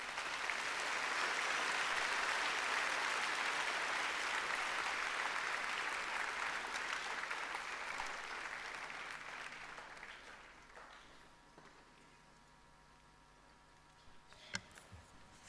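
Applause from a congress audience at Kenyatta University in Nairobi greets a professor, a sustained wash of clapping that stays loud for several seconds, then thins and fades to scattered claps and quiet room noise.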